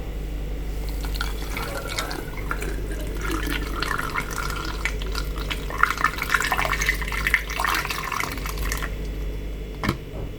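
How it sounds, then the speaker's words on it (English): Liquid pouring and gurgling steadily through a narrow opening, with trickles and splashes over a low hum, close by and without speech. "So I have to use this funnel. Pour it inside."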